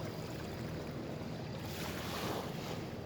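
A boat's wake rolls in as waves on a river near Yakutsk during smoky summer fishing: a steady, loud, broadband wash of surf-like water lasting throughout, swelling slightly toward the end, with wind buffeting the microphone.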